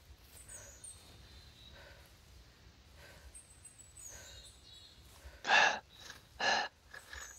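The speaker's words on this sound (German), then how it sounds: "Normalerweise, wenn der die ganze Zeit so keucht und hustelt hier, dann müsste doch das Reh auch wegrennen." The hunter character in theHunter 2012 panting in faint rhythmic breaths, then two sharp, loud coughing gasps close together near the end.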